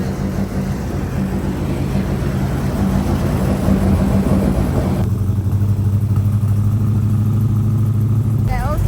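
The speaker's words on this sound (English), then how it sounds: "You can already hear the turbo sounds so good." A turbocharged 1JZ engine in a Nissan S13 runs close by, a steady throaty rumble with turbo whoosh and spooling, the pitch shifting partway through as the revs change.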